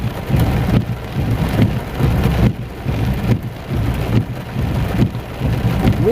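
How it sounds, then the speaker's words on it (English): Steady rain pours near a front porch, a dense, loud hiss of drops pattering on surfaces with low rumbling beneath, continuous throughout and no voices. "I know they outside enjoying this rain."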